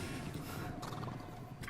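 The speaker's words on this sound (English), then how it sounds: "Yeah, the horse." A horse neighs in the video game Limbus Company, a short, fairly faint whinny with hoof-like clatter against steady game background noise.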